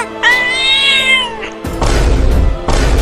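A single drawn-out cat meow, loud and close, followed by heavy thumping bursts of noise.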